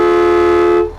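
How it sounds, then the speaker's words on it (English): The air horn of a concrete pump truck gives one loud, steady, train-like blast that ends abruptly after about a second. "Oh, it's an air horn."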